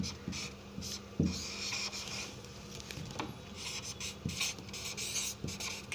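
Marker or chalk writing on a board during a lesson on river training groynes, a soft continuous rubbing scrape with a few sharper taps, close and steady, no talk.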